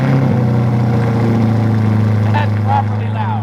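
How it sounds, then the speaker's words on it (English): A C8 Corvette fitted with an MBRP catback exhaust starts up for the first time and settles into a loud, steady, deep rumble, with brief voices over the top. "we're gonna get a first startup on the MBRP exhaust"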